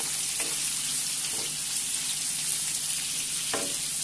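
Karnıyarık eggplant filling and peppers fry in a pan with a loud, even, close sizzle throughout, broken by a few brief stirring knocks; no voices.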